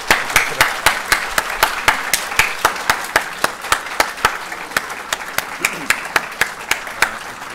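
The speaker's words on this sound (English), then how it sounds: "We can either do that or we can do like a full 30 seconds of applause to get him on here." Rhythmic audience applause at a book launch event, a crowd clapping in a steady unison beat with regular sharp claps throughout, sustained and fairly loud.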